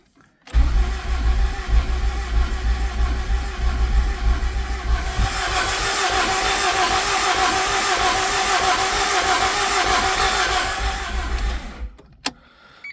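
A Honda F20B engine, freshly swapped into an Accord wagon, cranks over and catches, then runs steadily with a loud, even rumble for several seconds before cutting off abruptly.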